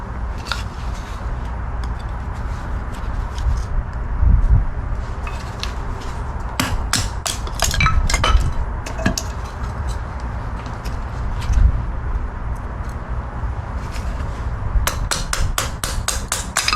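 A SOG Special Operations Group field knife splits wood into kindling outdoors in the bush, producing a series of sharp, irregular cracking and chopping impacts, loud and close, with no talking.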